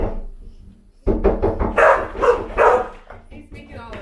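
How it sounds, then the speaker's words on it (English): Several dogs on a Canadian homestead bark and yip in bursts, fairly close and loud, after a short quiet start, with voices talking over them. "He's making all the dogs bark."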